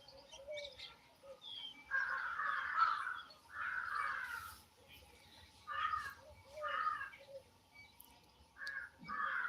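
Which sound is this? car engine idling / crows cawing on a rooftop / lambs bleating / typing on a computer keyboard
crows cawing on a rooftop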